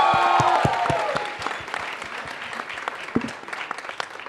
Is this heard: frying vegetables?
no